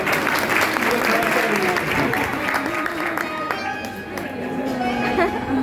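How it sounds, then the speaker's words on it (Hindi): Applause from an audience at a Hindu religious discourse, a Shrimad Bhagavat Katha at Naimisharanya, sounding as dense, sustained clapping with crowd chatter that stays steady for several seconds. "जोर से ताली बजाओ अपन सब।"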